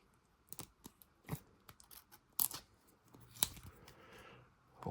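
Dull scissors snipping two-sided tape during modifications to an FCX24M RC crawler, a handful of separate crisp cuts at irregular intervals, close and fairly quiet with no talking.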